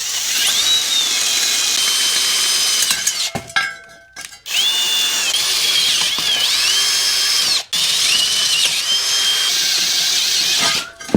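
A magnetic drill whines loudly while boring holes through Jeep Grand Cherokee metal, the pitch shifting under load, with brief pauses and stops between runs.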